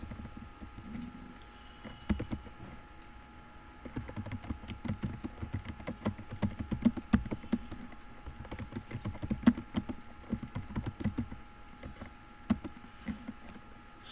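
Fast typing on a computer keyboard while taking notes in the Vim editor, with dense, continuous key clatter at close range throughout, occasional louder keystrokes, and no speech.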